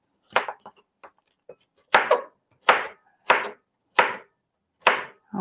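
Kitchen knife chopping cucumber on a cutting board: a few soft light taps, then a series of distinct, fairly loud chops at a slow, slightly uneven rhythm, close by with no talking.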